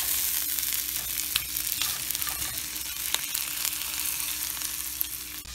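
Ham and bacon fry in a pan with a steady crackling sizzle, scattered sharp pops rising over the continuous hiss, close and fairly quiet.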